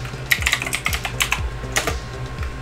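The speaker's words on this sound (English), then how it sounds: "So now we're going to go ahead and type in WinSAT" Someone types a command at a computer keyboard in Windows 10, producing a close, irregular patter of crisp key clacks for a few seconds with no talking.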